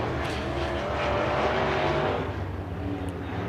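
Race cars circle a high-banked one-third-mile clay oval at Bakersfield Speedway, engines droning and blending at a distance in a continuous moderate roar.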